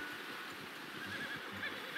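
A horse in the Western video game Red Dead Redemption gives a faint, brief whinny over a quiet ambient background.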